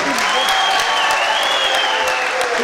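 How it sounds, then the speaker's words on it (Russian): Audience applause at a New Year concert in Khasavyurt, a dense, steady roar of clapping throughout with a tonal music or voice line faintly beneath it. "Громче аплодисменты, друзья."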